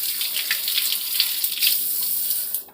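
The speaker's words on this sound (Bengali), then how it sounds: "তুলসী পাতা তুলে নিয়ে এসেছি, সে দেখো ধুয়ে নিই" Tulsi (holy basil) leaves washed under a running tap, a steady close rush of water splashing continuously before trailing off at the end.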